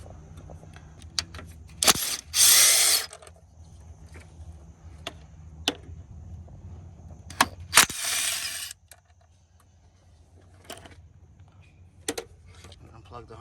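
Small 10 mm bolts being removed from the radiator shroud of a Toyota Sienna, giving scattered ratchet clicks and brief metallic rattles with two louder bursts of clatter, close by in a quiet garage.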